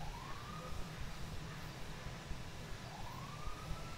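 Emergency sirens in a GTA roleplay game, fire engine or police, wail as they pass at a distance, two rising sweeps heard faintly over a steady rumbling background.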